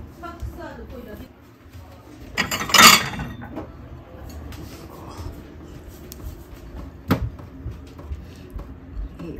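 A bright burst of clinking dishes, like plates knocking together, rises briefly over an ongoing murmur of people talking.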